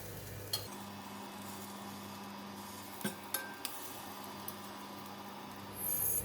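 Shrimp paste (belacan) toasts in a pan with a quiet, steady sizzle, broken by a few sharp metallic scrapes and clinks of a utensil flipping it, with no voices.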